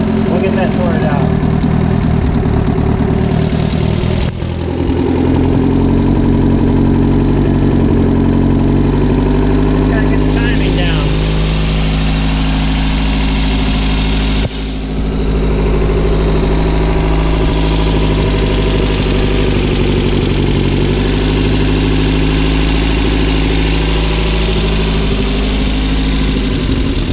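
Car engine idling smoothly with a loud, steady low hum and even throb close up, holding constant through a few brief dips, with a voice talking over it.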